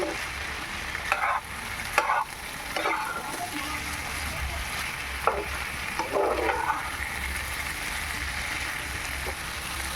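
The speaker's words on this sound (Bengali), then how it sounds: "ঢাকাটা আবার খুলে নিচ্ছি খুলে নিয়ে আবার নাড়াতাড়া করে দিচ্ছি" Goat meat curry being stirred in a pan after the lid comes off, with a steady sizzle throughout and repeated scraping strokes of the spoon rising over it at irregular intervals, close by.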